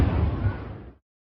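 A drone strikes a crowded Black Sea beach and explodes, giving a loud, close burst with a heavy low-end rumble that decays over about a second and then cuts off abruptly into silence.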